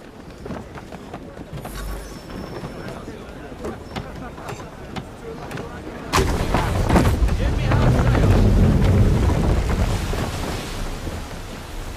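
Cannon fire booms at a ship in Assassin's Creed 3, starting a heavy, loud rumbling barrage that follows quieter ambient sea and rigging sounds, with continuous low blasts and crashes.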